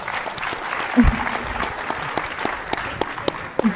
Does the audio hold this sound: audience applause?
yes